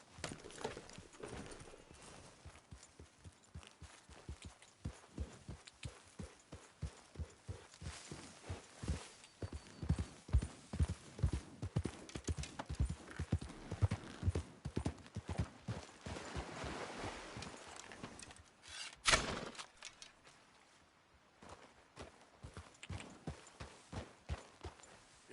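Horse hooves clip-clopping at a steady walking rhythm in the video game Red Dead Redemption 2, close and continuous for about twenty-five seconds, with a brief louder jolt near the end.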